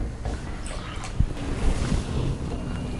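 Salted water comes to a rolling boil in a pot for a Pongal festival dish, a loud, continuous rushing roar with scattered bubbling pops, close to the microphone and without speech.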